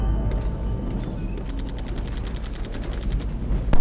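Wartime gunfire in a World War II Pacific battle on Kwajalein, heard as a rapid run of loud repeated shots, like machine-gun fire, over dense rumbling noise, ending with a heavier burst.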